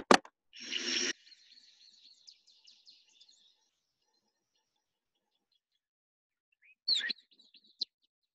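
A striped pipit gives a sharp buzzy call followed by a trailing twittering phrase, then silence, then a brief second call, clear against a quiet background in Kruger National Park.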